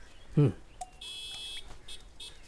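A vehicle horn gives a single short, fairly loud beep amid quiet background sounds in a dubbed film scene.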